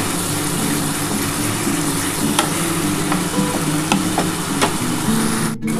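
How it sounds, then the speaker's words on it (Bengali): Masala paste with ginger and garlic fried and stirred in a pan, a loud continuous sizzle with occasional scraping taps from the spoon, close and unbroken to the end. "আমার কিন্তু মশলাটা কিন্তু কষানো কমপ্লিট হয়ে গেছে"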